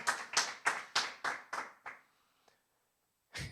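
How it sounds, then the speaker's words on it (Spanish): Six or seven sharp, evenly spaced hand claps ring out in a church service room, fading with echo, followed by a pause and one more clap. "Vamos a dar un aplauso fuerte al Señor"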